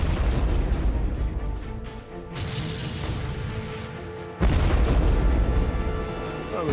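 Tank gunfire in archival World War II battle footage from the Battle of France, heavy booming blasts with a sharp loud report near the start and another partway through, over a continuous rumbling roar.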